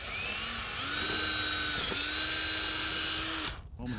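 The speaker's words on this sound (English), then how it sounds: "Drilling holes in the end pieces will keep the screws we'll be using from splitting the wood." A power drill bores pilot holes into a wooden end piece for a window box. It whines steadily and close for about three and a half seconds, then cuts off abruptly.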